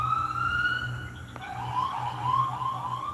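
A wailing ambulance siren passes outside, clearer and louder, its tone sweeping up and down in repeated rising glides over a steady low hum, with no talk.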